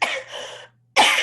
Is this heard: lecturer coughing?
yes